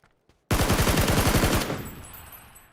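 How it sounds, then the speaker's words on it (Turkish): Sustained automatic gunfire from a PUBG match, a loud rapid burst of about a dozen shots lasting roughly a second, then a ringing decay, with no talk over it. "Sana mı sıkıyorlar sen mi Ben sıkıyorsun?"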